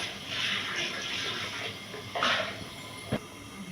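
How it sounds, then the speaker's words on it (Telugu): Water pours over raw turmeric roots in a container, a soft steady splashing stream close by, with a couple of brief louder splashes and knocks. "ఈ నీళ్ళు పోసుకున్నాం కదండి"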